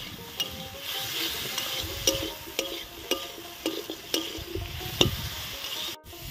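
Ridge gourd and potato with salt and a little turmeric fry in a pan, a steady sizzle broken by regular sharp scrapes and clinks of a spatula stirring about once a second, close and moderately loud.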